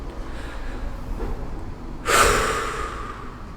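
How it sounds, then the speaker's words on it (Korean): A deep exhale during a calming breathing exercise, one loud breathy whoosh close to the microphone that tapers off gradually after a quiet pause. "자, 이렇게 내쉴 때 숨소리를 내는 것도 굉장히 좋은 방법입니다."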